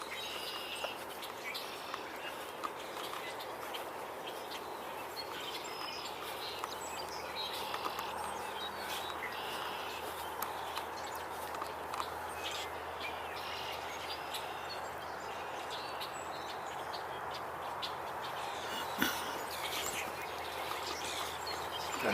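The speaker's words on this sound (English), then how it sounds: "Around us we definitely have red-winged blackbirds and starlings" Red-winged blackbirds and starlings call steadily outdoors as a dense, continuous chorus of chirps and whistles, moderately distant, with no voices.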